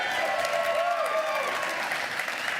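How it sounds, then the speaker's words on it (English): A studio audience at a live Hollywood talk show breaks into steady, dense applause for the TV series Tulsa King, with cheers and whoops rising through the sustained clapping. "we need to give a big round of applause for Tulsa King"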